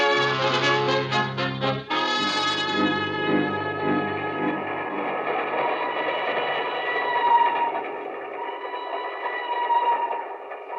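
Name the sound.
train running, radio drama sound effect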